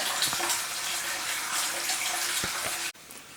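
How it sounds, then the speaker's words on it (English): Steady, loud rush of running water with a faint low hum of a sump pump beneath it, continuing evenly before cutting off abruptly near the end. "the water's been running like crazy, making the sump pump run"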